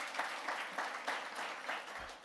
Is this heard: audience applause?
yes